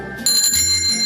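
A streamer's bicycle-style bell gives one bright, ringing ding that sustains and fades, loud and close, with no voices.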